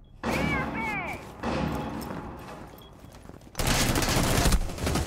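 Rapid gunfire from a shooter video game, with bursts of shots and a loud, dense volley near the end, layered under excited voices talking.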